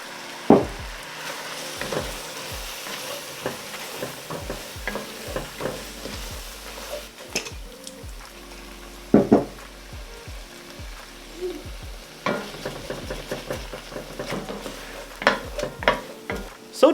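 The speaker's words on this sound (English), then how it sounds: "It's time to deglaze the fond. Here I'm using Brandy for that." Brandy deglazes the fond under caramelised onions in a pan for French onion soup; a continuous sizzle runs beneath many quick scraping and stirring strokes, with a louder flurry of scrapes toward the end.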